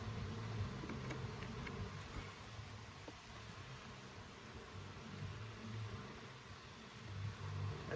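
Honey bees drone steadily from an open hive during an inspection, a dense, continuous hum that swells slightly at the end.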